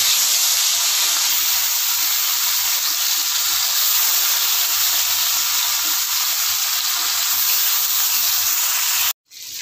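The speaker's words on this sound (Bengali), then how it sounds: "নুন হলুদ মাখানো মাছগুলো ভেজে নেব" Small live fish (chara pona), coated in salt and turmeric, frying in hot mustard oil in a pan give off a loud, steady, hissing sizzle that carries on without pause and cuts off abruptly near the end.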